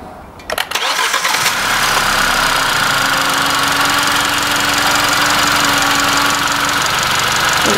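A 2019 Kia Ceed with a 1.4 GDI engine cranks briefly, catches and settles into a steady, loud idle with a faint mechanical whine running throughout.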